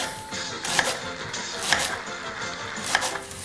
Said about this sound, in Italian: Cominciamo tagliando lo scalogno.